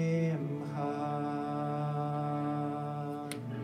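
A single voice sings the opening of the Hebrew prayer melody Aromimcha, with slow, sustained notes that glide gently in pitch, heard close and quiet with no accompaniment.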